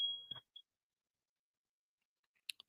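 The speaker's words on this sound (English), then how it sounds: "I think World's fire alarm's going off" A fire alarm sounds somewhere nearby: one high electronic beep followed by a second, shorter beep, fairly faint and otherwise surrounded by near silence.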